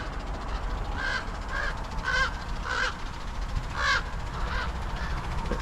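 Several crows caw overhead in a cemetery, about half a dozen harsh calls spaced irregularly over a constant outdoor background hum.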